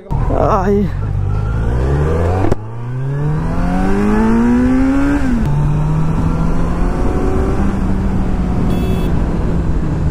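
A Kawasaki Z900 motorcycle engine revs loud and close on a village road, its pitch climbing steadily through repeated accelerations with brief gear-change dips, continuous for the whole stretch.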